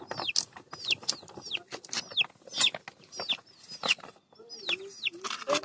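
Chickens cluck and chirp in a village coop with chicks, a busy run of short, rising calls overlapping close by at moderate volume.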